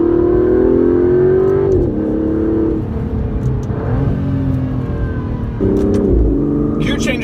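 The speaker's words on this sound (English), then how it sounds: "Ease onto the throttle, the power is delivered linearly." An Aston Martin DB11 accelerates under steady throttle, its engine note rising smoothly and climbing through several gear changes, loud and close throughout. Someone talks over the engine for most of the run.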